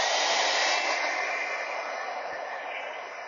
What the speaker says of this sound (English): I'm going to use my heat gun just a little bit before I start cutting that off of there.